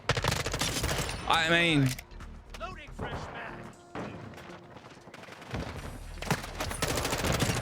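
M4 rifle fire in Call of Duty rattles in rapid automatic bursts, loud at the start and end, with someone talking briefly over the shooting.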